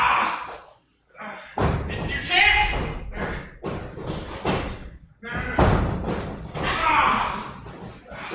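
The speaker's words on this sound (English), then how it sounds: "Vicious kicks to the side of AK's leg." Hard kicks thud against a fighter's leg during a fight, several heavy slaps and thumps landing under continuous excited commentary from a man.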